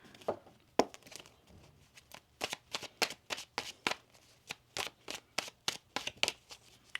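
Tarot cards being shuffled by hand, a quick series of sharp riffling bursts in an irregular rhythm, close and fairly quiet with no voices.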